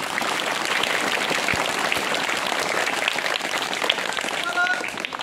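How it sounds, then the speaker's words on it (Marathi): Schoolchildren in a Zilla Parishad village classroom clap loudly together, a dense, sustained patter of many hands filling the room, with voices mixed in. "जोरात टाळ्या वाजवा रे, एकदम छान"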